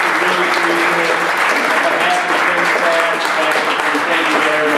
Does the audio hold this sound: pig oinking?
no